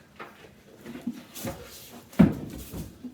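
A wooden kitchen cabinet unit is tipped over onto its back, with knocks and scraping bumps leading to one solid thud near the end, close by in a workshop-like room.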